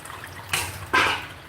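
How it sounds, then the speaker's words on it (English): Cold water pours in two short splashy bursts, a softer one followed by a louder, longer gush over a low background hum. "Let's go in with cold water again."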